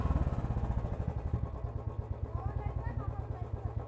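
A motorcycle engine runs close by with a steady, rapid pulsing beat that holds throughout.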